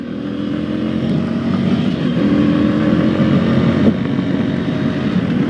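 A light 125 cc motorcycle accelerating at full throttle, a loud, steady engine roar that holds close and strong throughout without letting up.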